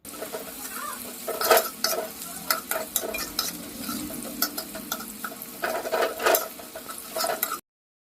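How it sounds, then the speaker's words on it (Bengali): Sliced onions fry and sizzle in a pan while being stirred to golden brown for a pomfret fish curry, steady crackle broken by repeated scraping strokes of a utensil, close and clear with no talk. "ততক্ষণ পর্যন্ত আমি পেঁয়াজটাকে একটু ভালো করে ভেজে নেব"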